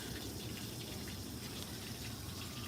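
A small stream with tiny waterfalls near the Potomac River gushes and splashes in a steady, broad rush of water, close and continuous with no voices.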